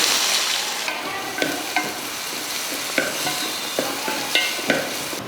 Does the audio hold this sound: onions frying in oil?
yes